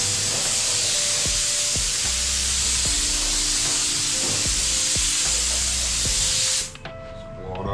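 A compressed-air spray gun hisses continuously as it sprays mixed seam sealer during paint work on a 1949 Jeep Willys restoration, a loud, steady spray that cuts off abruptly near the end.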